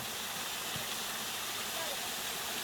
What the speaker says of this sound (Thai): น้ำตกไหลสวดซาสวดซา